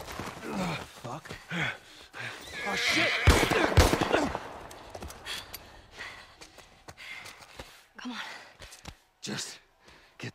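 A horse in The Last of Us Part I video game whinnies and snorts amid a loud burst of commotion, with scattered hoof thuds, breathing and gasps, while a character briefly swears.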